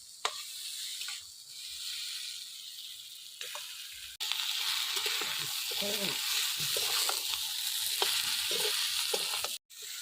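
Fish heads sizzling in a pan with puffed muri from sun-dried rice, a steady hiss of frying that grows louder after a few seconds, with scraping and stirring clatters throughout.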